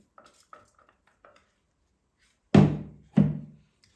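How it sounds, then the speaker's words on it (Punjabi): A pan holding ground flaxseed, almonds and oil is mixed with a utensil, first with a few faint light scrapes and clicks, then two loud ringing metallic clanks, each fading slowly into a resonant decay. "ਸਾਰੀਆਂ ਚੀਜ਼ਾਂ ਨੂੰ ਚੰਗੀ ਤਰ੍ਹਾਂ ਮਿਕਸ ਕਰ ਦੇਵਾਂਗੇ"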